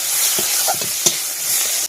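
Panch phoron spices with chopped onion and garlic frying in oil in a wok, a steady sizzle with a few stirring scrapes and a sharp clink near the middle, ending abruptly.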